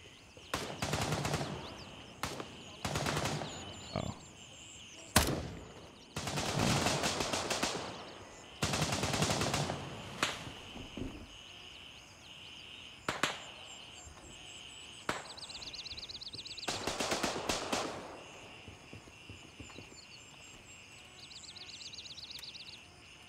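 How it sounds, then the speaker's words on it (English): Gunfire in the Gray Zone Warfare video game: repeated bursts of automatic weapon fire and single sharp shots, some loud and close, others more distant, spread across the whole stretch with short pauses between volleys. "Who are they shooting? Are these guys shooting each other?"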